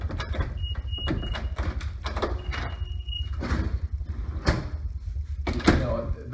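An elevator door with mechanical problems operates roughly, giving a series of clunks, rattles and brief scraping sliding sounds over steady low machinery rumble, close by, with a voice talking over it.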